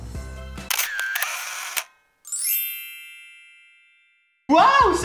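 A camera shutter goes off while a photo is taken: a burst of sharp mechanical clicks, then a bright chiming ding that rings out and slowly fades, with a loud, louder sound returning at the end.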